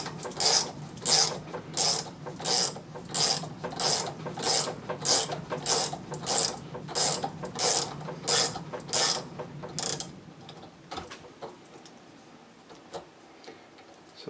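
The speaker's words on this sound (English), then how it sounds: "this should help it cut into the bone even more, into the antler even more" Rapid rhythmic rasping of a thread-cutting tool working into deer antler, about two strokes per second, close and steady for ten seconds before stopping, followed by a few faint clicks and handling sounds.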